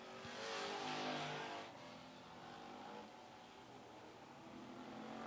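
Street Stock race cars lap Mount Lawn Speedway, engines revving and droning as a car roars past close by, then settling into a steady, slightly distant engine hum.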